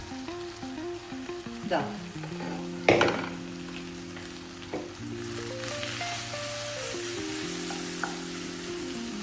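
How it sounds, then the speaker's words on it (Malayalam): Tomatoes for a beef roast sizzle and fry steadily in a pan, a continuous close crackle with a few louder clatters of a utensil, while a brief spoken word passes over the top. "ഒന്ന് മൂടി വെച്ച് തക്കാളി നല്ലവണ്ണം വഴണ്ടി വരുന്നത് വരെ വേവിച്ചെടുക്കാം."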